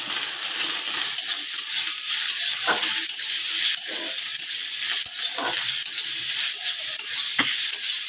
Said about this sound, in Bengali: এটা কুচো চিংড়ি মাছটা ভেজে নিচ্ছি